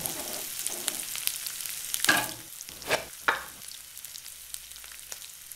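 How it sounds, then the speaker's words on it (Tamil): Onions frying in a pan for pepper chicken chettinad, with sizzling and several scraping stirs of a utensil that come in short bursts, close and moderately loud, with no talking. "இந்த வெங்காயம் நல்லா பொன்னிறமாக வரும் வரைக்கும் வதக்கணுங்க."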